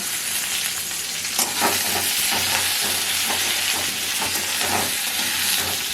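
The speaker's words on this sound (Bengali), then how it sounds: "এটা হালকাভাবে ভেজে নিতে হবে, খুব বেশি ভাজা যাবে না, একটু হালকাভাবে ভাজতে হবে।" Onion and capsicum pieces with dry red chillies and fennel seeds frying in a pan, a loud steady sizzle with repeated scraping stir strokes close by and no voices.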